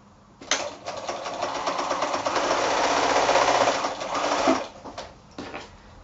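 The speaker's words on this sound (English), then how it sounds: "I'm going to sew my 1/4 inch seam along there now." A sewing machine stitches a quarter-inch seam on a quilt block, a steady close mechanical whirr lasting about four seconds before stopping, with a few short bursts afterward and no talking.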